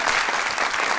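A studio audience breaks into loud, dense applause on a talk show, steady clapping that fills the whole brief moment.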